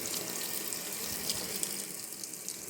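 Water rushes steadily into a washing machine as it fills, a constant hissing flow with no pauses, faint and even throughout.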